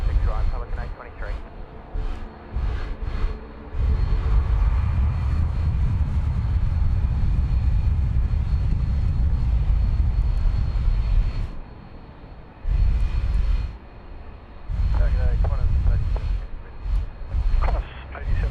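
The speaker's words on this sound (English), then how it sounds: "Captain A23, runway 16 right, clear for takeoff. Clear for takeoff, runway 16 right, Pelican A23." A Pelican airliner takes off from runway 16 right at Sydney Airport, its engines roaring loudly as a distant, sustained rumble, while a voice talks intermittently over the noise and radio chatter cuts in.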